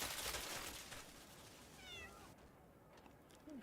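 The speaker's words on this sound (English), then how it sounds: "I hear a cat every time I return." A cat meows inside the video game Crimson Desert. The calls are short, rising and mid-distance, sitting over a steady wash of ambient game noise, with a brief lull partway through.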